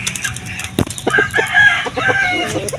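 An XL-size Shamo rooster of Asil bloodline, a head-punching gamecock, crows loudly and close by, with clucks and a brief burst of wing flapping around it.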